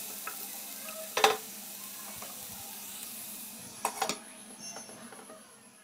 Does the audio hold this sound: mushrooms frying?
yes